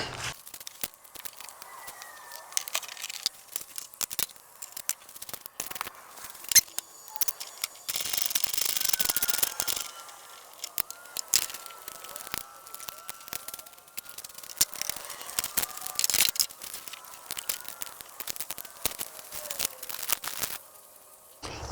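Old wire being unwrapped from alternator wiring during an exciter wire install on a car: a close, irregular run of crinkling, tearing and crackling with short bursts and a denser patch midway, no talk.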